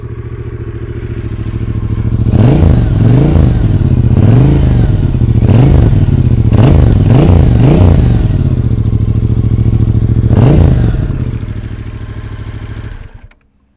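A Fantic Caballero 500 twin-cylinder motorcycle engine rumbles steadily at idle with a burbling note, a few throttle blips rising and falling, then the engine is shut off abruptly.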